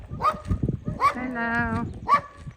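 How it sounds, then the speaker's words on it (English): Dog barks from outside a gate along a rural Portuguese village lane on a spring morning, short repeated yips and barks mixed with a person speaking close by. "As soon as we're outside the gate, we're fair game for being barked at."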